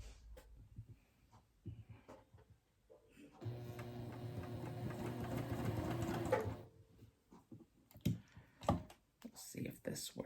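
A sewing machine tacks down a looped ribbon in one steady run of a few seconds, close and fairly loud, with handling clicks and movement before and after.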